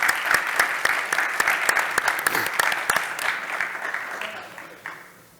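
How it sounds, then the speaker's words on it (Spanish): An audience at a soil conference panel in the Syngenta hall breaks into sustained, dense clapping that tapers off toward the end, with faint voices beneath. "obviamente a Luciano y a Mario, un fuerte aplauso, les pido."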